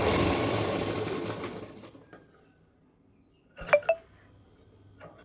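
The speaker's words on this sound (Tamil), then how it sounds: "நல்லா மேலே ஒரு படிமான தையல் போட்டோம்னா தையல் நீட்டாக விழுறதுக்காக அர்க்கட் ஒரு படிமான தையல் போடுங்க." Sewing machine running steadily while stitching a blouse, its dense motor whir strongest at the start and fading out, followed by a couple of sharp metallic clinks and a soft tap.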